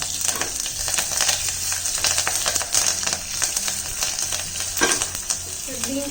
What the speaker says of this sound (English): and carefully we'll add the curry leaves and green chilies.